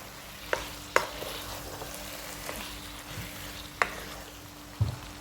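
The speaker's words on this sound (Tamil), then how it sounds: "நல்லா அப்படியே எண்ணெயில் வதங்கட்டும்." Chicken pieces, washed with turmeric, fry quietly in oil in a home kitchen, a soft steady sizzle broken by a few sharp stirring clinks and scrapes.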